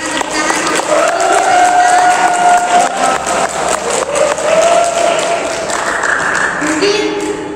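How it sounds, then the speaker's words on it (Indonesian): Applause breaks out at the close of a school MPK organisation-chair candidate debate, a steady wash of clapping from the audience with voices and tonal sounds mixed in throughout. "Berikan tepuk tangan"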